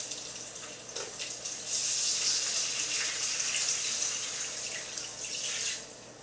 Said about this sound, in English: I'm just going to go ahead and add the liquid.